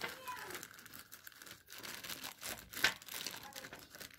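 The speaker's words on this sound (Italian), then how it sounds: "Prendiamo un po' di terriccio, io l'ho preparato in questo sacchetto. Lo versiamo nel nostro vasetto," Potting soil is poured from a small bag into a little pot for sowing seeds, giving a faint rustle and crinkle of the bag with soft patter, heard under someone speaking.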